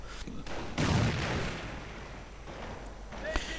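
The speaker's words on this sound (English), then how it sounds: "Quite a few grenades getting lobbed there, and quite a few getting dodged." Grenades explode in a WWII real-time strategy game as a cluster of muffled booms and crackling bursts. The loudest burst lands near the start, with a sharp pop near the end, and a commentator's voice is partly audible over the battle noise.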